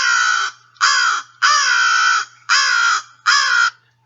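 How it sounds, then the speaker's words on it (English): An American crow gives five loud, harsh caws in a steady series. Each call is clear and close, with short silent gaps between them. "The American crow has the typical cawing that we hear."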